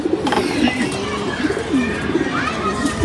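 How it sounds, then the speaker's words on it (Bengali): Pigeons cooing at close range, low throaty rolling coos repeating over a busy background, with a person talking at the same time. "এগুলো কবুতর"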